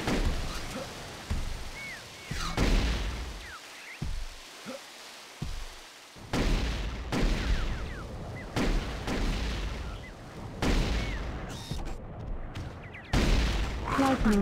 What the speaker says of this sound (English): Plasma rifle.